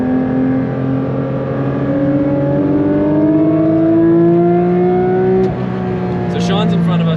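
A new Porsche 992 GT3 RS is driven flat out on Smoky Mountain roads, its engine howling loud and close as the pitch climbs steadily through a gear, then breaks at a shift and climbs again, with a person talking over it.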